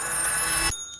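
Short bright electronic ringing bell, a bonus-round sound effect, buzzing steadily for under a second and then cutting off, moderately quiet with no voices.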